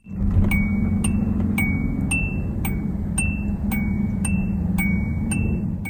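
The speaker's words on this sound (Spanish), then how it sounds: "si dejas las luces encendidas y apagas el coche, suena una campana de advertencia bastante extraña" Warning chime of a 1994 Acura Legend sounding after the car is switched off with the lights still on, a series of about nine bright chime strikes at a steady, evenly spaced pace over a low engine-like hum.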